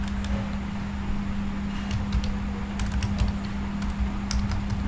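Fast, steady typing on a computer keyboard while writing CodeIgniter code for an e-commerce project, light clicky keystrokes over a constant low hum.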